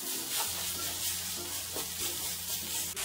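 Beef and onions sizzle steadily in a frying pan while being stirred, a close, constant hiss with soft scraping movements throughout.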